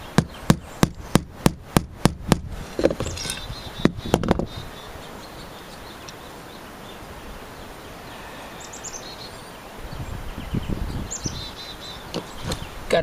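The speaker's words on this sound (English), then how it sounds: "I'm going to have to just hammer it in" Sharp hammer blows drive a nail into wood for a radio cabinet in a quick run of about eight hits, then a couple more after a pause, followed by faint birdsong and scattered knocks.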